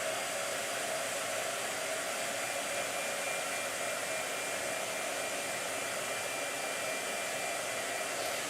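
A handheld blow dryer blows continuously at an even, loud level, nearby and alone with no voices.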